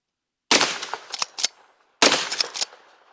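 Two sharp rifle shots from a Henry Big Boy Model X lever-action firing .357 Magnum rounds, each a loud crack with a ringing outdoor echo, spaced about a second and a half apart.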